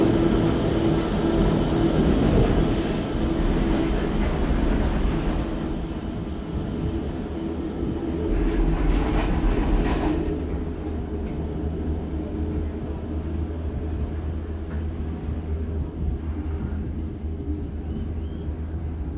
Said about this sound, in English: The sound of the Skyliner fans has become a sound of Walt Disney World.